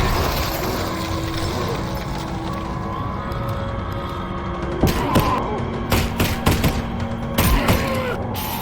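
Shotgun blasts and reloading in the virtual reality game Half-Life: Alyx, several sharp, heavy shots in bursts over a constant, busy game soundscape with a low hum.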